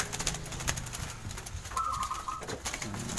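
Local zebra doves (perkutut) coo amid outdoor birdsong near bird traps, a short tonal call standing out briefly mid-clip over steady ambient chirping and background noise.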